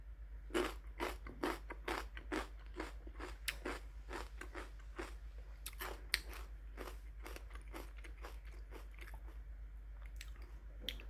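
Crunchy fresh celery kimchi being chewed up close, a steady run of crisp, wet bites and crunches repeating roughly every half second, with no talking.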